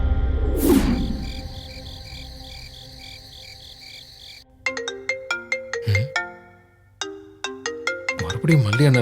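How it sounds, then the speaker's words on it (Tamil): A phone rings with an incoming call in a Tamil TV serial drama scene. A sweeping swoosh comes first, then a loud, repeating electronic melody plays in short bright bursts. "எப்படி மல்லி அண்ணன் நம்பர்ல இருந்து கால் வருது?"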